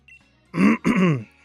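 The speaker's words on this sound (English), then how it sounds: "Had to clear my throat a lot there." A close, harsh throat clearing in two guttural bursts, loud against a quiet background.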